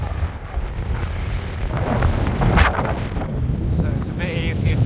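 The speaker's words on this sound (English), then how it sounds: "But it is windy today." Strong wind buffets the microphone throughout while a cyclist rides into a 20 mph headwind on a country road, a steady low rumble with gusty surges, no speech.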